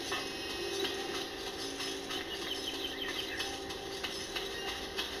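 Steady rumbling rail noise of a train rolling along in the World War II shooter game Medal of Honor Frontline, a continuous broadband clatter at even loudness with faint metallic clinks, no talking.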